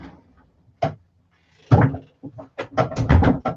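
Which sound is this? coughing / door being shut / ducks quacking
door being shut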